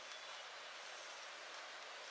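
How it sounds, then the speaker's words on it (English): Light drizzle falls on a tent along the Appalachian Trail, a soft, even hiss that stays steady and faint throughout, with no voices. "I hear little drizzles. Oh, the drizzles are coming."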